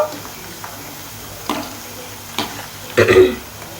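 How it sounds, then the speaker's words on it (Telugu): Okra frying in hot oil, a soft continuous sizzle with a few brief louder bursts of stirring clatter near the end, close by with no talking. "బెండకాయ ఫ్రై చేస్తున్నాను"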